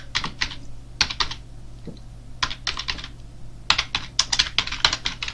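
Rapid keystrokes on a computer keyboard while code is typed for a Python Blackjack game, coming in close, loud bursts of clicks separated by short pauses.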